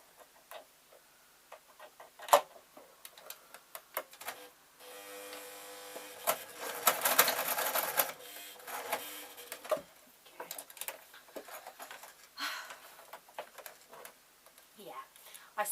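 An old domestic sewing machine stitches a lined grab bag in short ticking runs and one longer whirring burst, with pauses between and a person talking quietly at times.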